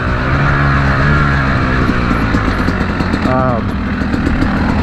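A Yamaha YZ250X two-stroke dirt bike rides in second gear on the Rampart Range trail, its engine a loud, continuous close rasp with slight pitch changes. A rider talks over it.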